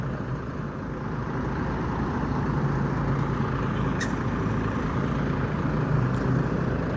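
Adi Prima buses idling at the Palembang bus terminal, a steady low engine rumble filling the scene with a sharp air-brake hiss near the four-second mark and faint higher squeaks, no voices.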